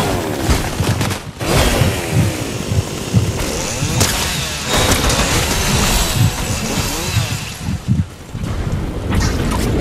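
Dense, continuous Fortnite gunfire roars through the whole stretch, with rapid overlapping shots and bursts that keep the sound loud and busy from start to finish.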